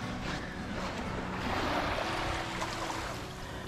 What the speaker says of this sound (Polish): ja wylądowałem sam nad morzem, a dokładnie jestem w Rewie